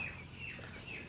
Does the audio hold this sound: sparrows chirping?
yes